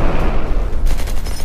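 Loud, dense bursts of game gunfire and a booming explosion from a Recoil laser tag toy's 3D audio, a sustained rumbling blast with rapid shots layered over it, heard alone and up close.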